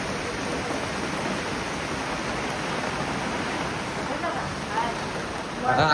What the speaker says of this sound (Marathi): इथे बघा पाऊस वगैरे कसं पडतोय बाहेर